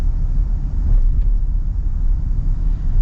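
Lifted 2025 Toyota Tundra accelerating, heard from inside the cab as a steady, loud low rumble of engine and road noise with no clear rise or break.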